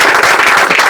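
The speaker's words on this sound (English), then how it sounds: "We should give astounding clap for him." An auditorium audience claps loudly at an academic orientation event, a close, dense burst of many hands beating rapidly and evenly for a brief moment with no voices.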